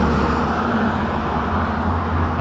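Steady, loud roar of road traffic and vehicle tires rolling over pavement during a motorcycle ride from Cavite to Baguio, a continuous wash of engine and tire noise with no pauses.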